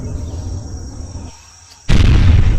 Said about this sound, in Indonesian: granatnya meledak guys